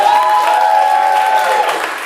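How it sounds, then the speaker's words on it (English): A Fringe Festival audience applauds a stage play, a dense even roar of clapping with a held vocal tone over it, loud and close. "Applause for this play. Applause for the script."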